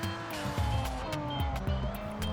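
A RUF RT 12 R in the racing game Assoluto Racing keeps a loud, steady engine drone, its pitch climbing and then dropping sharply at several gear changes.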